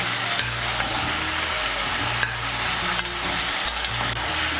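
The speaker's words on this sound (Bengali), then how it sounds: "টমেটো কুচিটাকে মিশিয়ে নেব" A spoon scrapes repeatedly through chopped tomato and ginger paste frying in a pan for chirer khichuri with vegetables. The stirring strokes are steady and close, over a constant loud sizzle.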